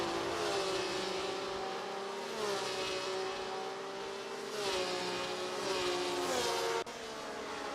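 Several race cars in a sim racing game on the 1966 Monza circuit, engines roaring steadily at high speed down a long straight, with pitch sweeps as cars shift and pass, loud and continuous without talk.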